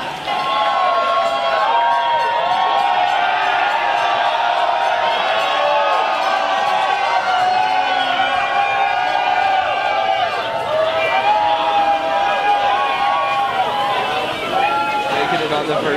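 A large, dense crowd roars and cheers continuously as the first Green Line train pulls in on opening day in Medford, with excited shouting and babble layered throughout, loud and close.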